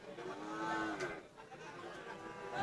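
Friesian cattle at a busy cattle market lowing nearby, a drawn-out moo rising over the crowd's background murmur.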